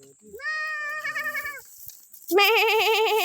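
Young goat kids on a farm give two drawn-out, wavering bleats, the second louder and closer, with a short quiet gap between them.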